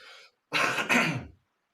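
A quick, harsh cough burst, then a second, close and loud, after a faint murmur of a voice at the very start.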